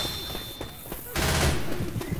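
Rapid video game gunfire crackles in loud bursts, with a denser, heavier volley in the second half, all under a steady background din.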